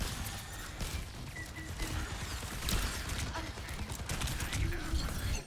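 Bastion firing in Overwatch 2, rapid bursts of gunfire and mechanical clatter from a nearby room, dense and continuous with sharp impacts building toward the end.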